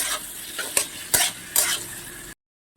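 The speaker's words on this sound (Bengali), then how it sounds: "এই আদাটাকেও ভালো করে ভেজে নেব আমি" Ginger and green chillies frying in a pan of oil, a bright close sizzle broken by several sharp spatula strokes against the pan, then sudden silence at the end.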